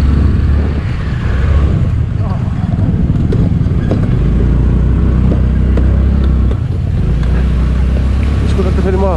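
A scooter rides along a rough, off-road-like road, its steady engine drone mixed with heavy wind buffeting the microphone throughout, loud and close, with a voice talking faintly underneath.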